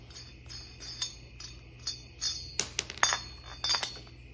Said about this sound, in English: Get all these bolts off.